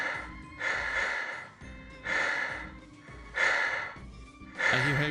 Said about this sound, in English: I hear heavy breathing.